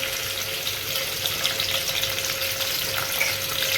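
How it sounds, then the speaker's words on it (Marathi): Tomatoes dropped into hot oil for a spicy Agari-style squid gravy crackle and sizzle in a loud, steady, close hiss that never lets up. "तेल टाकलेलं आहे. टमाटा टाकतो बघा"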